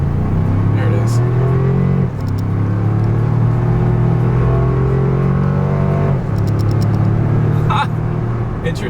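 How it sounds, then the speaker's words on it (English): A 2025 Toyota 4Runner with a turbocharged four-cylinder accelerates hard down a straightaway, engine note climbing in pitch through two rising pulls with a brief shift dip between them, close inside the cabin, an occupant exclaiming over it. "let's see how quickly we can get our new 2025 Toyota 4Runner here up to speed"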